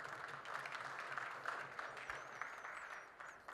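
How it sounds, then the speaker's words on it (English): Audience applause at a one-pocket pool match, a moderate spread of clapping that holds steady for a few seconds and fades slightly at the end. "the crowd deservingly claps"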